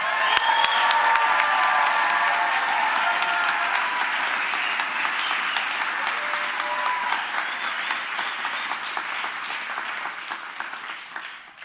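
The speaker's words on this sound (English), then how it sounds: "please join me in giving them a round of applause." Sustained applause from a convocation audience honoring graduate students, dense and steady clapping that starts strong and slowly thins over about twelve seconds, filling a large hall with no voices standing out.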